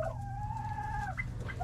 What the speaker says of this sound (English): I have 5 little chicky turkeys.